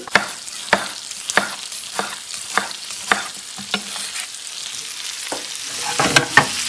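Tomatoes fry in hot oil with turmeric powder for a prawn roast, a steady close sizzle broken by regular sharp scrapes and knocks of a spoon stirring the pan, with no talking.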